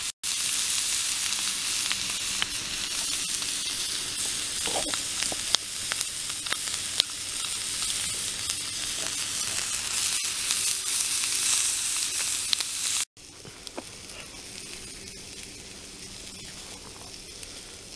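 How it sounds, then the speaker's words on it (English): Sausage sizzles while frying over a wood fire in a Vargo SS Hexagon wood stove, a steady, close, continuous crackling hiss that drops abruptly to a quieter sizzle near the end, with no voices. "Love that sizzle."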